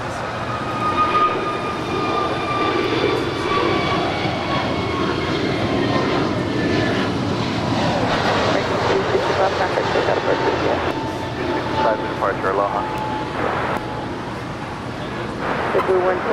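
A Philippine Airlines Boeing 777-300ER from Manila makes a north side arrival at Los Angeles International Airport, its jet engines a steady, loud roar that builds and shifts across the whole stretch, with radio chatter and talk heard over it.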